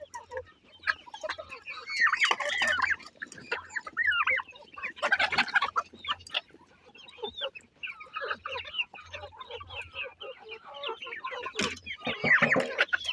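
Chickens cluck continuously in a busy, close chorus on a small farm with turkeys and ducks, with occasional louder squawks and a low hum underneath.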